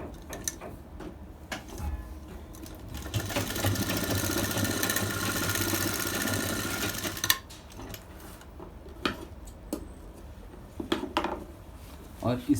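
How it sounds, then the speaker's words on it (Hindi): A sewing machine runs steadily for about four seconds, stitching elastic into the waistband of a bridal sarara, with quieter handling clicks and rustles before and after. "ये हमारी इलास्टिक है, इसमें हम इस तरह सिलाई लगाएंगे"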